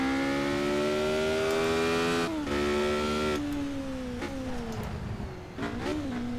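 A race car engine in the video game Project Cars, at Bathurst, holds a loud sustained tonal whine that dips and shifts pitch with gear changes and throttle lifts, heard alone without talk.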